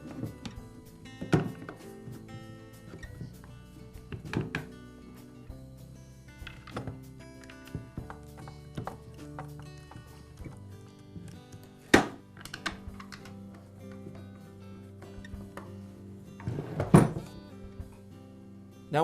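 Plastic and metal parts of a Poulan chainsaw knock and clack as its top handle is fitted back on, with sparse, close thunks and taps over a quiet background.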